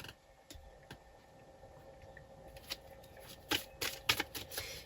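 Oracle cards are handled and covered close up, with faint slides and light taps at first, then a quick series of crisp card flicks near the end.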